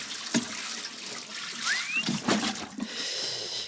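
Water splashes and swirls while a dirty bucket is rinsed, a close sloshing pour with a few knocks and a brief squeak of handling.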